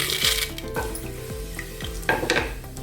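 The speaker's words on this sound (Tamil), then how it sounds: "இப்போ இது எண்ணெய் காஞ்சதும் கொஞ்சமாக கசகசா, ஒரே ஒரு பிரிஞ்சி இலை, அவ்வளோதான் நான் அதில் போட போகிறேன்." Poppy seeds, a bay leaf and fennel sizzle and crackle in hot sesame oil in a pan, with quick clinks of a utensil stirring over a steady frying hiss.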